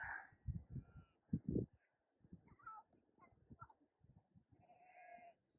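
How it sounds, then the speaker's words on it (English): A flock of ewes being brought in on a farm bleat repeatedly, several overlapping calls at close to moderate range, with a shuffle of movement between them and no talking. "we've got the start of bringing the ewes in"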